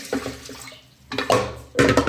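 Toor dal being washed in water: splashing and sloshing in a few short bursts, close and moderately loud, with quiet pauses between.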